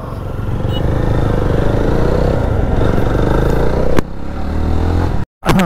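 A Jawa motorcycle rides at speed on a highway, its loud steady engine drone mixed with wind rush and rattling, briefly cut off near the end.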